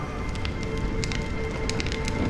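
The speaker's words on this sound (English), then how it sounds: "When will this rain" Steady rain patters in a close, continuous wash beside a crackling fire, with sharp pops breaking through the hiss every so often.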